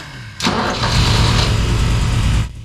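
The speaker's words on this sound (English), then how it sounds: "but the engine sounds good" A BMW 528i E28 with a racing engine cranks and fires up, then runs steadily at a loud, rough idle close by for about two seconds before cutting out, with no one speaking over it.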